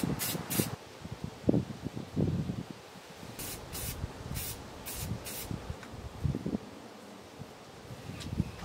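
Rust-Oleum 2X flat white primer spray-painted outdoors, heard as several short hissing bursts from an aerosol can, two early and a cluster of five in the middle, with faint rustling and wind between them.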